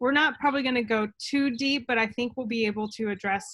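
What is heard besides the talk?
No distinct noise like a dog, phone or traffic.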